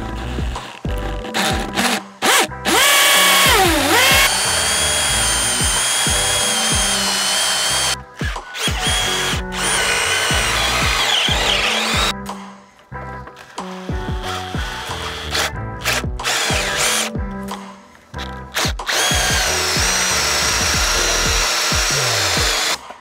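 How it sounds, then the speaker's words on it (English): A power drill with a Forstner bit boring through timber for a timber-framed pergola, loud and close, running in long sustained stretches with brief pauses and pitch shifts as the bit bites into the wood. "So we're just drilling the Forstner bit hole back through from the top side just to meet it in the middle."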